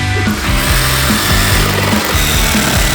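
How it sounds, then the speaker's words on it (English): Jigsaw cutting out a wooden shape for a kids' shelf, a loud continuous buzzing saw with a rapid reciprocating rasp, close up and without talk. "taking our trusty jigsaw and cutting out that shape"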